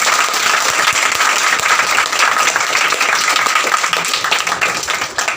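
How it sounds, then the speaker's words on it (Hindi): Audience applause at a prize distribution ceremony for a digital classes competition: dense, steady clapping from a sizeable crowd, sustained loudly for the whole stretch with no talk over it. "इनके लिए आप लोग ज़ोर से तालियां बजाएं।"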